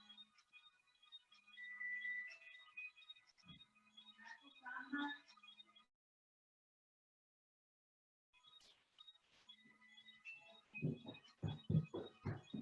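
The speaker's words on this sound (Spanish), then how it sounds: "¿Se escucha un celular por ahí?" A mobile phone rings faintly in the background of an online video call, a thin repeating electronic tune that stops and later starts again, mixed with soft clicks and muffled bumps.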